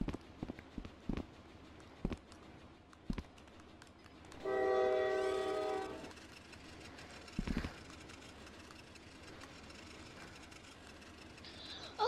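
A train in a video game draws near, its horn sounding one steady blast of about a second and a half partway through, with scattered clicks and thumps before and after and no talk.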